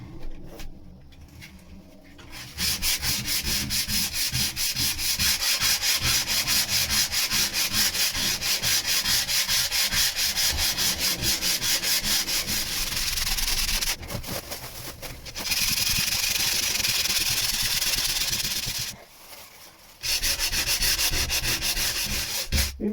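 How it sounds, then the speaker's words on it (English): Hand sanding the curved underside of a wooden boat deck without a block: loud, close, continuous rhythmic scrubbing strokes that run for long stretches, pausing briefly twice before resuming. "I just thought if I can get this sanded down"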